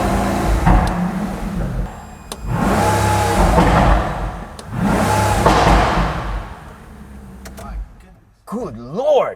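A Pagani Huayra Hermes Edition's engine blips through three loud, close revs, each swelling and dying away, followed by a brief mechanical whine at the end.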